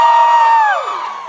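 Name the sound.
debate audience screaming and cheering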